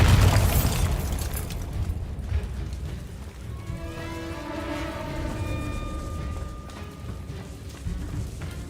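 A Bombarda spell blast in the Hogwarts Legacy game, a loud booming burst at the start that fades into a long rumbling tail with ringing tonal shimmer and scattered debris.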